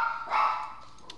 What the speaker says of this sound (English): dogs. My dogs are loud.